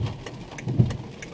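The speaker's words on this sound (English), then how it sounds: "Guys, it's pouring rain over here. Pouring." Heavy rain pours down steadily at an airport, a dense continuous hiss with a low rumble of thunder mixed in, loud and close throughout.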